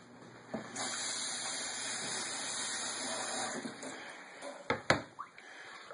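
Cold tap water gushes steadily into a basin to soak a cleaned squirrel in salt water, then stops, followed by a few close clunks and splashes.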